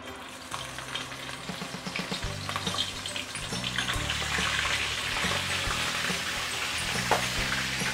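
Cornstarch-coated crabs deep frying in hot oil for a Malaysian kam heong spicy crab dish, giving a steady, close, loud bubbling sizzle that builds slightly over about eight seconds, with no talking.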